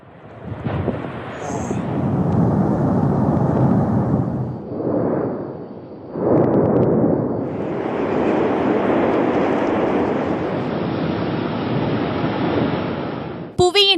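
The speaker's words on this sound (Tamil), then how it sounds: "புவியின் உட்புறத்தில் உள்ள வெப்பமான பாறைகள் வெடித்து வெளியேறும் நிகழ்வையே எரிமலை வெடிப்பு என்று அழைக்கிறோம்." Volcanic eruption on La Palma, Spain, heard as a loud, sustained roar and rumble with surging, wind-like turbulence that briefly dips and swells before continuing steadily, ending with a short sharp burst.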